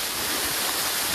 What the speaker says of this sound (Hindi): भाई साहब कितना बड़ा झरना है यार, कल्पेश्वर महादेव मंदिर के जस्ट साइड में झरना है ये।